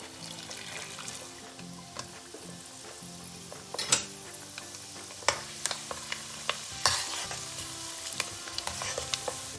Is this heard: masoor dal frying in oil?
yes